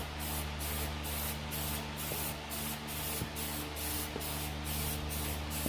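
A spray gun lightly dusts paint onto a 1968 Chevrolet C10 truck frame, giving a continuous quiet hiss with a faint rhythmic pulsing and occasional soft clicks from the gun throughout.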